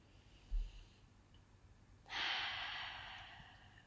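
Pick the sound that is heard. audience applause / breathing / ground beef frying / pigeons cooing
breathing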